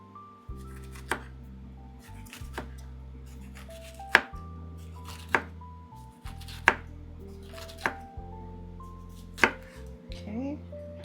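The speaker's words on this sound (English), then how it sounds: "And I want to do little circles, little slices." Close, sharp knife chops cut jalapeños into thin round slices on a cutting board, about eight distinct strokes in an uneven rhythm over a quiet kitchen background, with no voices.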